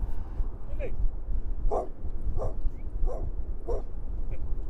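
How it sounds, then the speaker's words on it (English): A dog barks repeatedly on a windy beach, about five clear barks spaced roughly half a second apart after a brief whimper, standing out over steady roaring wind. "Hello, puppy dog."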